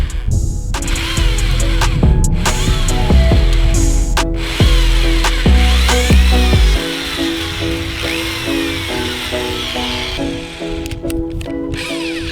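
Power drill whirring in short bursts as it bores into the fiberglass hull of a bass boat, with rising and falling motor pitch, clattering handling noises between bursts, and a quieter stretch toward the end.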